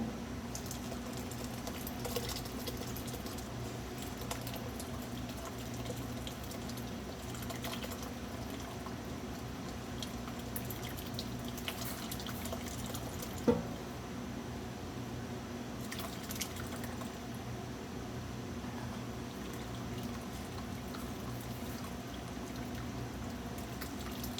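A steady stream of milk or whey pouring during goat cheese making, with faint drips and a sloshing texture, one brief louder clink partway through; no talking.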